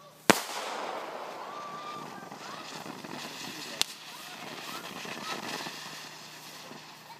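Fireworks going off outdoors: a sharp, loud bang at the start, a second crack midway, then a continuous crackling and fizzing that trails off, with people talking nearby.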